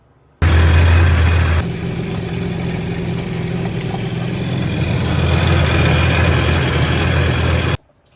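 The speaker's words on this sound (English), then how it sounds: "fire up the engine, let it run for a couple minutes" A Yamaha WaveRunner 1.8L engine idles close by, a loud, even rumble with a low drone that shifts slightly after the first second and runs unbroken until it cuts off.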